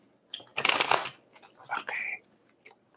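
Tarot cards riffled and shuffled up close in two short bursts, a crisp flurry of papery flicking followed by a softer second shuffle, with no talking.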